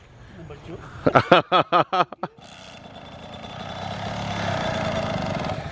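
A Kawasaki KX112 two-stroke supermoto motorcycle engine gives a rapid run of short, sharp revving blips, then settles into a rising, sustained drone that grows louder toward the end.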